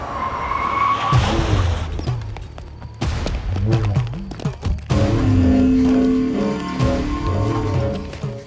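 A vehicle skids to a halt in a Telugu comedy film scene, with loud, repeated tyre squeals and screeching bursts swelling and fading over several seconds, mixed with dramatic sounds.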